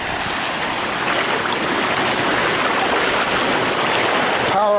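Floodwater rushes steadily across a flooded road beside a front yard in Sodus, Michigan, a loud, continuous broadband roar of moving water that barely changes over the whole stretch, with no voices.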